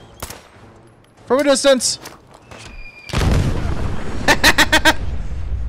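Gunfire in Fallout 4 arrives as a loud crash followed by a quick run of four or five sharp shots, close and punchy, after brief spoken lines and a shouted voice.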